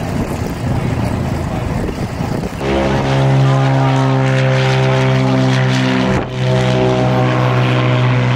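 A propeller airplane engine starts up at Santa Monica Municipal Airport, catching after a few seconds of hiss into a loud, close, steady droning hum with a brief dip before settling again.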